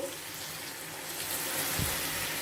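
Water pours steadily into a pan of drumstick and tomato curry, a broad continuous splashing rush that grows slightly fuller toward the end, with no talking.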